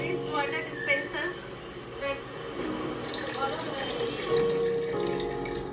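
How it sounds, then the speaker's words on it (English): Water runs steadily from a water dispenser made from recycled materials, a continuous splashing stream under faint background voices. "That nice water dispenser."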